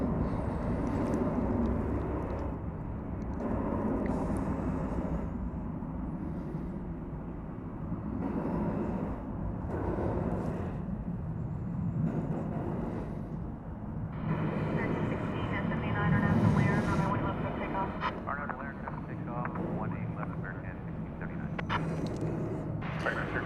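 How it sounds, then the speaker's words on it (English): An American Airlines Airbus A321 takes off at night from DFW Airport with a distant, steady jet roar under ongoing talk. "That Airbus A321 off to San Francisco, the city adjacent to the bay."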